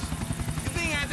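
Helicopter in the video game GTA IV, a close, rapid rotor chop with buzzing engine whine, pulsing steadily, with someone talking over it.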